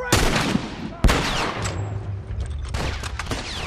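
Loud bursts of gunfire from The Last of Us, with sharp shots and rapid volleys in a video game firefight, close and dense with a voice briefly exclaiming.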